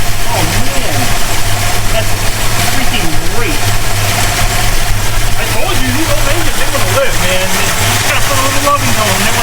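A 1969 Plymouth Road Runner with a 440 engine idles steadily after sitting dormant for over 20 years, a loud continuous low rumble that runs throughout, with people talking over it.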